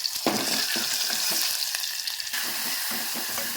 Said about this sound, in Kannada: ಈಗ ಎಣ್ಣೆ ಬಿಸಿಯಾಗದ್ರಿ ಬೆಳ್ಳುಳ್ಳಿ ಹಾಕೊಂಡೇನು ರೀ